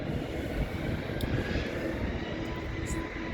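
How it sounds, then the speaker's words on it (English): Airplane taking off from London City Airport on a stormy evening: a continuous loud, broad engine roar heard from a distance, steady throughout with wind noise and no talking. "taking off from London City Airport"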